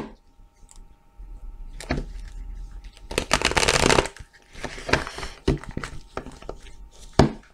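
Tarot cards being shuffled and cut by hand, several bursts of riffling and slapping with a loud flurry in the middle and a sharp final tap, close and without speech.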